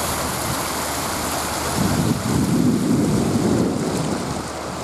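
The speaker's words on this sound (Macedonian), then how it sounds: "Пад вода од езерото." Steady rushing water from a lakeside waterfall, a broad continuous roar with a slight swell in the middle, close and fairly loud, with no voices over it.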